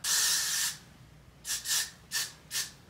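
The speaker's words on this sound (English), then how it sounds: "So I'm gonna go ahead and spray this." A spray bottle is sprayed during a wig install: one long hissing burst, then four short spritzes in quick succession, close and fairly quiet with no talking.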